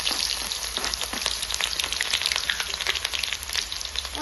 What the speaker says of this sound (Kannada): ಉಳ್ಳಾಗಡ್ಡಿ ಚಂದ ಫ್ರೈ ಆಗ್ಯಾವ್ರಿ